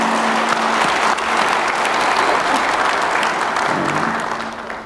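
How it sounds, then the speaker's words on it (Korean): A crowd at a Yeongnam regional advanced-industry event attended by the president gives dense, loud applause of encouragement. The clapping is continuous and even for several seconds before tapering off at the end, with a faint steady tone beneath it. "우리 추경호 대구광역시장께서도 함께 해주셨는데 우리 격려의 박수 한번 부탁드립니다."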